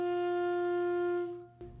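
A single sustained low D on an alto saxophone, fingered with the side D key, rings steady and clear for over a second before cutting off, followed by a brief faint noise.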